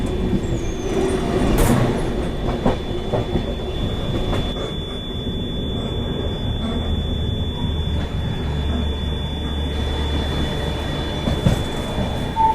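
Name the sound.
Secunderabad Duronto Express train arriving at platform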